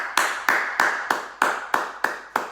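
A single person claps hands at a steady, deliberate pace, about eight sharp, close claps spaced evenly in a quiet room with no talking.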